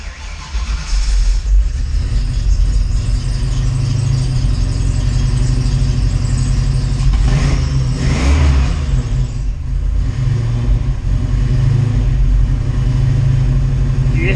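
A 408 Clevor V8 engine runs loud and close with a rough, rumbling idle and a couple of brief revs midway, with no speech over it.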